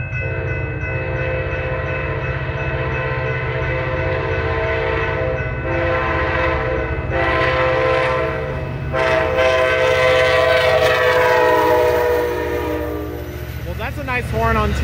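A loud, sustained Amtrak California San Joaquin passenger train horn blares over the steady rumble of the passing train at McKinley Ave, Fresno, the harmonic blast holding for most of the clip before fading.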